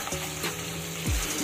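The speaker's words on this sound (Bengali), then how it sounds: "এবার সবটা মশলা ধীরে ধীরে কষাতে হবে যতক্ষণ না পর্যন্ত মশলার গা থেকে তেল ছেড়ে যায়।" Spice paste sautéed with turmeric powder and cashews in a pan for a Bengali soybean malai curry, a soft steady sizzle with a brief scraping stir near the end, close and alone.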